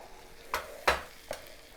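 Scrambled eggs with tomatoes and onions being stirred in a pan, three quick scrapes of a utensil over a quiet sizzle.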